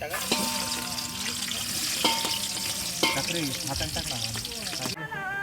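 Khichdi ingredients frying in a pan as tomatoes are added at a trekking campsite near Torna fort, a loud close sizzle with stirring clatter and spoon scrapes, a voice talking over it.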